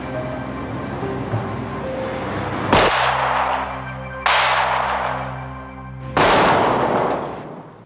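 Three sharp gunshots heard over a phone line in a German crime drama scene, spaced a second or two apart, each a loud crack with a fading tail and no talking.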